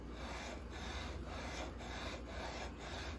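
A sanding block guided lightly across the frets of a 2020 Gretsch Electromatic guitar gives a soft, steady rasping rub in even back-and-forth strokes, close and quiet, with no talking.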